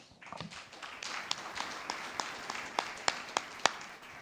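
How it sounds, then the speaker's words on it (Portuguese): A church congregation clapping together during a worship service, a dense patter of hands that builds and holds with sharper individual claps standing out near the end. "Uma salva de palmas para Jesus"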